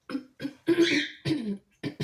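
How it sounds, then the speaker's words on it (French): A person coughs five times in quick succession, close and fairly loud, with brief pauses between the coughs. "il se peut que je tousse un petit peu"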